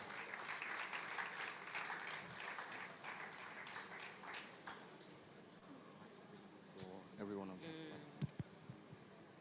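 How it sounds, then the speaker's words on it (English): Conference audience applauding as a speaker comes up to the stage, a steady wash of clapping through the first half that thins into scattered claps and room noise, with a few sharp louder claps near the end. "Could you please celebrate him, give him a round of applause as he comes up?"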